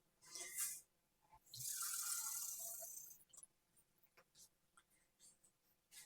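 Tap water runs into a container while tofu burnt ends are being cooked, a steady rushing splash of about a second and a half, with brief quieter splashes and kitchen handling noises around it.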